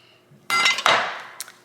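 A knife cutting through a roasted chicken joint near the spine in a cast iron pan, heard as a short close crunchy scrape and clatter lasting about a second, with a faint tap just after.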